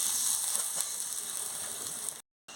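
Spice masala being stirred with water in a pan while cooking okra curry, a steady close sizzling and bubbling scrape that runs continuously, then cuts out briefly near the end before resuming.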